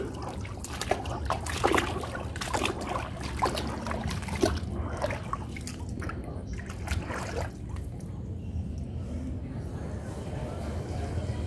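Strong flow of water on a flooded rooftop with a clogged drain, a continuous close rushing and trickling wash with splashy bursts, voices talking over it early on.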